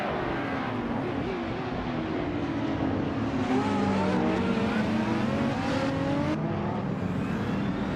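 A 2003 Porsche 911 race car in the GT300 class at a circuit, engine roaring loud and sustained with rising and falling revs through gear changes, tire noise underneath, no talk.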